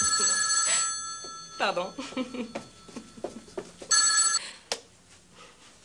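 A telephone bell rings in short bursts at the start and again near the end, with someone speaking French between rings indoors.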